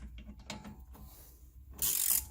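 A ratchet with an extension and T40 bit turns out an upper strut mount bolt on a 2012 Chevy Cruze, giving a close run of quick clicks that ends in a louder, brighter burst of ratcheting.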